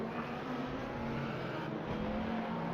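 Race cars, including a red Ferrari, roar steadily through the chicane and onto the front stretch at Spa-Francorchamps, a continuous engine drone with no break.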